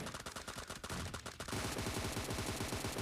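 M762 rifle fire in a PUBG duo match: fast, steady automatic bursts rattle continuously, denser and heavier in the second half, loud and close with no voices.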